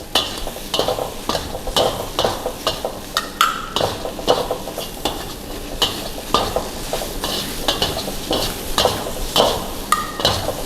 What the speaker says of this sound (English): ladle and spatula method by pushing and turning